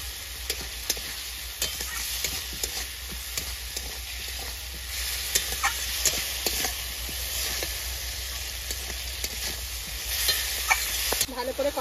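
Green mangoes and snakehead fish stir-fry in a pan for aam shol, a steady close sizzle and hiss with repeated scraping strokes of a spatula, no voices.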